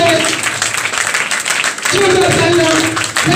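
Audience applause at a live seminar, a dense wash of clapping that stays loud and steady throughout, with a brief dip before swelling again, and voices faintly mixed beneath.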